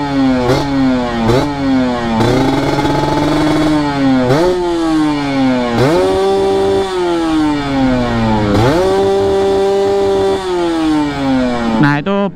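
A Kawasaki Ninja RR two-stroke motorcycle with a VM28 carburetor and an RS1 42 Pro Max exhaust is blipped repeatedly, loud raspy revs climbing and falling in quick bursts with a few longer held pulls.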